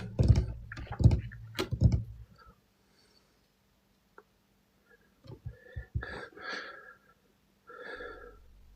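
Heavy, ragged breaths come close to the mic in several loud bursts, then a gap of near silence, then more rough exhaling and snorting bursts that are fainter and breathier.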